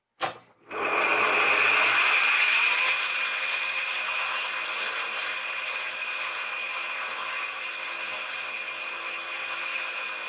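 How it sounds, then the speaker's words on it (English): A drill bores a pilot hole into a SilencerCo hybrid fixed-length suppressor spacer, starting abruptly and holding a steady, loud high-pitched whine that eases slightly as the cut continues, with no talking. "We're going to drill our hole for our inside diameter"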